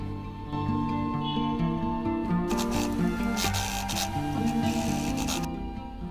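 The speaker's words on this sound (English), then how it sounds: "We are going to make a top stitch." A sewing machine runs a top stitch along a round fabric pouch, whirring steadily for about three seconds in the middle. Music plays throughout and sits in the foreground.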